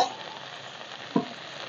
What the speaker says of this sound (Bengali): চিংড়ি শুটকিগুলো ভাজা ভাজা হয়ে গেছে